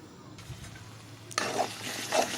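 Rice is stirred in a pan while cooking tomato rice before an omelette is added. Soft scraping stirs and a faint sizzle grow louder in the second half.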